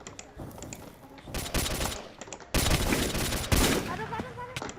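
Bursts of automatic gunfire in the zombie survival video game InvasionZ, loud rapid volleys with short pauses between, with a voice talking faintly at times.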